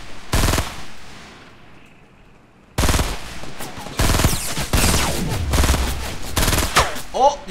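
Rapid automatic gunfire from the video game Fortnite comes in loud bursts separated by short pauses, with players talking briefly.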